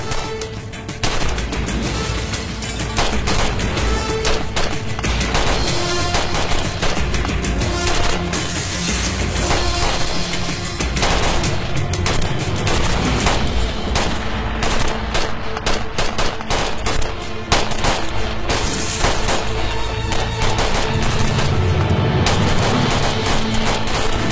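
Sustained gunfire in a TV drama, with dense rapid machine-gun bursts and repeated shots filling the scene loudly and continuously, like a chaotic firefight.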